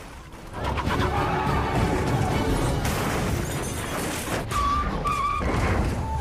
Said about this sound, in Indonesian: Dom dan Brian menarik brankas tersebut ke jalanan dengan menggunakan 2 mobil.